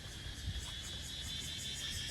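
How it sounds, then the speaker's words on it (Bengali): Crickets chirping near a hotel set against a hillside on Phi Phi Island, a faint continuous high-pitched trill with rhythmic pulsing, heard alone in a quiet outdoor setting. "আর ঝিঝি পোকা ডাকতেছে খুব জোরে।"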